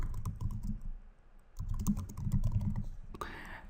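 Close, brisk typing on a computer keyboard, a rapid patter of key clicks with a brief pause in the middle, no talking.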